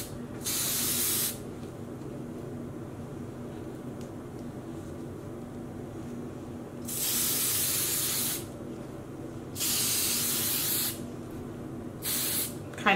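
Wilton's Color Mist food coloring spray is misted onto yarn in four separate hissing bursts, close and loud, with a low quiet background between them.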